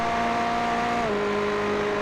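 Ferrari race cars in the iRacing game run down the Imola straightaway, engines holding a high steady whine before an abrupt gear shift drops the pitch, loud and continuous without speech.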